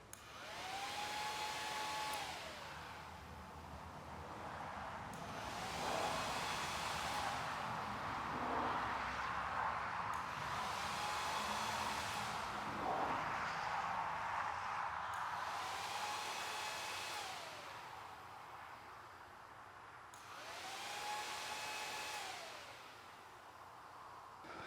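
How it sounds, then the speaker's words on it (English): The radiator fan on a Yamaha WR250R motorcycle whirs as a steady airy hum that swells and fades in repeated cycles, with faint rising and falling whines and soft clicks from the relay actuating, fairly quiet, with no talking. "You could also hear the radiator turn on, as well as the relay actuating."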